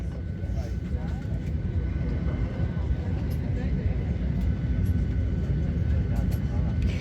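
A steady low engine rumble and hum fills the cabin of a Jet2 airliner at Bristol Airport, with faint chatter and clatter on top, idling before departure.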